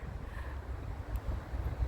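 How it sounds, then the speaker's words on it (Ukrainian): Strong wind in a park in Dnipro buffets the microphone with a low, rumbling roar that rises and falls in gusts. "І ого, який вітер!"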